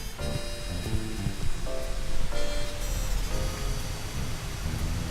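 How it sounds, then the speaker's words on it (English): Steady rain patters all around in a dense wash of noise, with faint tonal sounds drifting underneath. "Can you hear the rain?"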